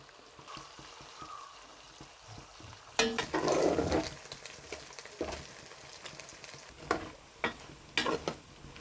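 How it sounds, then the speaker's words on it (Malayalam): Chicken pieces for a Kerala chicken pickle drop into hot oil with a sudden loud sizzle that settles into crackling frying, broken by scraping stirs and clatter from the pan, close up with no talk. "നമുക്കതിലേക്ക് കുറച്ച് ഇറച്ചി ഇട്ട് കൊടുക്കാം. നമുക്ക് 2ആയിട്ട് വറുത്ത് കോരാം. കുറച്ച് എണ്ണയിൽ വറുത്ത് കോരിയാൽ മതി."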